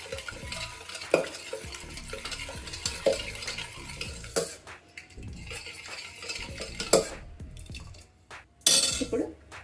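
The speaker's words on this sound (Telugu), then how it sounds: "దీన్ని ఇలా ఒకసారి అంతా కూడా ఇలా మెతుక్కోవాలండి మెత్తగా." Cooked dal is mashed in a pot, heard as close, irregular stirring and squelching scrapes with brief metallic clinks of a utensil against the pot, broken by short pauses, with no talking.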